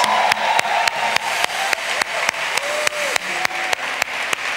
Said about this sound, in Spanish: Démosle un buen aplauso a ellos.